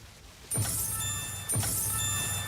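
Two bright chiming loot-drop sounds in a video game about a blood mage clearing a temple room, arriving about a second apart, each with a sharp attack and a lingering shimmering ring.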